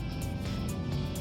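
An Acura Integra turbo four accelerating at full throttle, a steady, close engine drone filling the short stretch at constant level, no talk over it.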